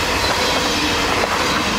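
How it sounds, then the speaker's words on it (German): A train runs past on the railway line near Wiesthal in the Spessart, a loud, steady rolling roar of wheels on rails with faint clacking, close by and filling the whole clip without any voices. "da kommt auch der Zug schon um die Ecke"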